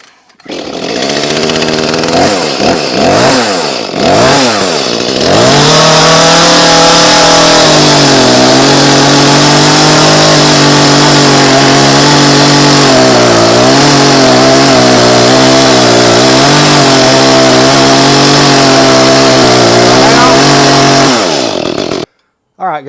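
A chainsaw with a freshly grinder-sharpened chain, previously run dull until hot, starts with a few pulls, then runs loud and close for a long stretch with revving and engine drone before cutting off.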